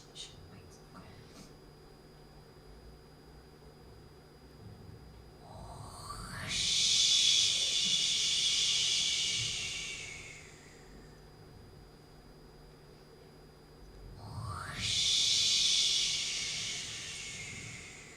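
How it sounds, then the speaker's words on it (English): Ocean waves crash against an island shore in two broad, rising surges of hissing surf several seconds apart, each swelling and then fading back to a low background rumble. "That's the sound of the ocean crashing against the shore of our island."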